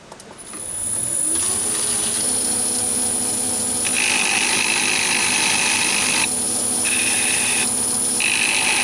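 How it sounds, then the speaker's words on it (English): A safety file with one smooth side shaves the corners and chamfers the end of a small metal swaging tool, making a continuous loud rasping, grinding scrape close by with steady tone. "I use a file to take off the corners here and put a slight chamfer on the front here."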